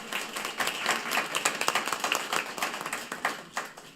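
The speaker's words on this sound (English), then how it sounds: "Let's give Donovan another round of applause." A meeting audience gives a round of applause for an honoree, clapping steadily for a few seconds with uneven individual claps and no talking over it.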